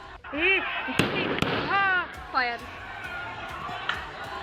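Gunfire from a house rooftop near a mosque during street violence: several sharp, distant cracks spaced apart, heard beneath someone talking and crowd noise.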